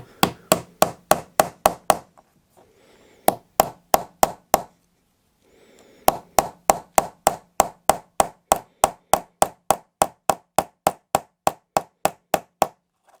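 A blunted nail hammered into wood: bursts of sharp, evenly paced hammer blows, loud and close, with two short pauses before a long steady run of strikes.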